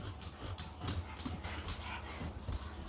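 Puppies at play give short, high whimpers and soft yips over shuffling and light scrabbling, spread through the stretch at a low, close level with no talk.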